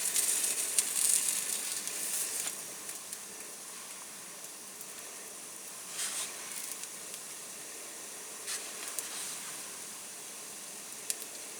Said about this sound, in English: I don't know if you can hear those sizzling, but they are sizzling.